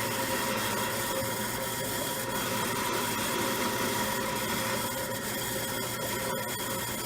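Steady, continuous abrasive rubbing of sanding on wood, an even scratchy hiss that runs without pause, fairly close and moderately quiet.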